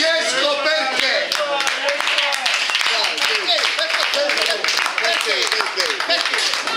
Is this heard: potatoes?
no